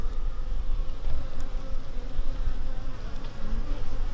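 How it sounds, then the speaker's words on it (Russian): Dense, steady buzzing of many honeybees and drones at a drone-laying colony, with a low droning hum and higher wingbeat whine close up, continuous and fairly loud throughout. "Посмотрите, сколько тут трутней."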